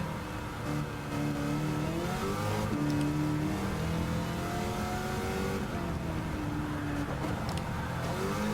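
A Jeep race car engine in Gran Turismo 7 drones steadily and close, pitch climbing and falling through gear changes and revs, with brief tyre noise and no talk.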